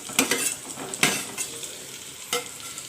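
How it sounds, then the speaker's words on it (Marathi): Fried boiled-egg pieces being mixed into a masala gravy with a spoon, with a few clear metallic scrapes and taps against the pan over a soft simmering sizzle, close and with no talking. "व्यवस्थित चमच्याने एकजीव करून घेऊया"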